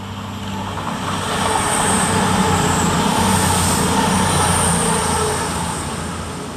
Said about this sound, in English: Cruising around the corner is 220014, working 1 Victor 49 for cross country from Manchester Piccadilly to Bristol Temple Meads.